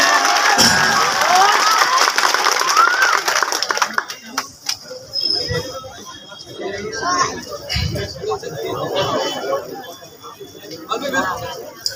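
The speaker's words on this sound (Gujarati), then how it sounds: "આનંદભાઈ યાજ્ઞિક તાળીઓથી એમનું સ્વાગત કરીએ" A crowd at a political gathering in Kodinar cheers and applauds to welcome Anandbhai Yagnik, a loud burst of shouting and clapping that fades after a few seconds into scattered murmurs and voices.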